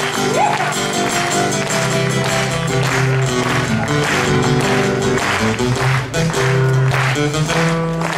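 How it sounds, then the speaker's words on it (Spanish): Concert crowd clapping along with live music at a bicentennial concert in Torremolinos, Málaga, the rhythmic claps blended under a loud, full band playing continuously throughout. "que se vengan las palmas"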